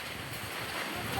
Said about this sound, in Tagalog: Lakas ng hangin sa paligid.